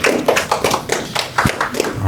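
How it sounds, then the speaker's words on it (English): Scattered hand clapping from a small audience at a community meeting on Ashland's climate and energy plan, with uneven bursts of claps over about two seconds and faint voices mixed in. "Can I get a round of applause?"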